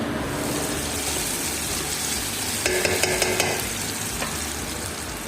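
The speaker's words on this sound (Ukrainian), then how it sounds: "нарізаємо аби як цибулю і обсмажуємо її прямо у каструлі" Chopped onion fries in oil in a pot, with a steady sizzle and a brief burst of stirring or scraping clatter near the middle.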